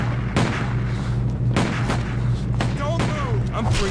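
Gunshots in the video game Stubbs the Zombie, several loud booming blasts spaced irregularly over a steady low hum, with a voice talking in between.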